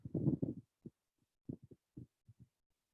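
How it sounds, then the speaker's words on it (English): Heartbeat thumps: one loud, drawn-out burst followed by a series of short, soft, low beats in pairs with gaps between them. "Sharvi, are the heartbeats still going strong?"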